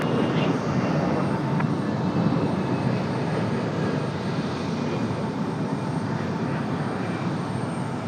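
Airliner on approach to Raleigh Durham airport, its engines making a steady, loud broadband roar that holds evenly throughout with no voices over it.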